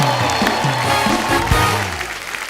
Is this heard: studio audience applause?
yes